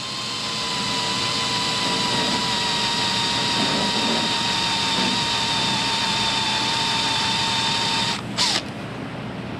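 A Matco pilot-tipped drill bit bores slowly into a motorcycle countershaft seal, a steady high whine from the drill running continuously before stopping abruptly near the end.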